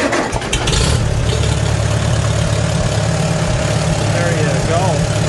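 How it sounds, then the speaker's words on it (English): Farmall A tractor engine starting and settling into a loud, close, steady idle, with a brief rough catch at the start and continuous rumble throughout. "So let's start our engines."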